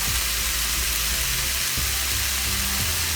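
Egg fried rice with soya sauce, vinegar and salt sizzles loudly and continuously in a hot pan, with faint stirring scrapes underneath.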